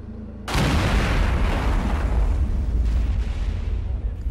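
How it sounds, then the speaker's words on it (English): A controlled detonation of a roadside IED goes off as a sudden loud blast after half a second of quiet, followed by a long rumbling roar that stays strong for several seconds. "Now there's another IED about 200 meters down the road from this one, and we're going to dispose of them by detonation."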